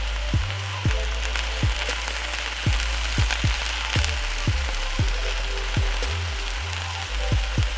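Deer heart frying in a pan, cooking for several minutes, giving a steady close sizzle with scattered pops and crackles and no one talking.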